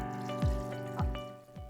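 Very cold water is poured into sweetened condensed milk for Magnolia Bakery-style banana pudding, giving a few soft, brief pouring and splashing bursts over a faint steady hum.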